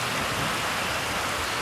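Heavy rain pouring steadily outdoors in the woods during a wild turkey hunt, a dense, loud, unbroken hiss of drops covering everything, no voices.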